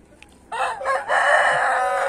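Chickens cluck and squawk loudly at close range in a continuous burst, with a faint knock before the birds start and no people talking.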